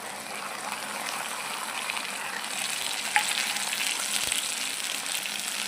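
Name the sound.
mustard paste added to a sizzling pan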